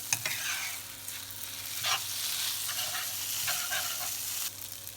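Egg frying in a pan for veggie pad thai, a steady broad sizzle with occasional scraping stirs of the utensil against the pan, fairly close and continuous.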